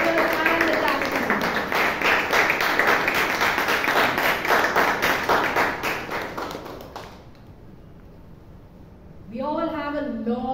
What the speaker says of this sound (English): Can we all have another round of applause for the GE, the director and the captain?